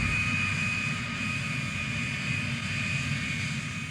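Boeing 777 jet airliner engines make a steady, loud, broadband roar with a constant high whine running through it, sustained throughout with no voices.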